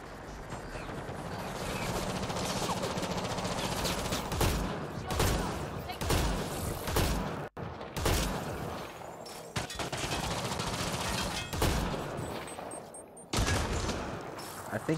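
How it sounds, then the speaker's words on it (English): Dense, relentless gunfire from a Mass Effect Andromeda firefight crackles in overlapping bursts and rapid volleys for the whole stretch, with only brief gaps. "Will people stop shooting me in the face?"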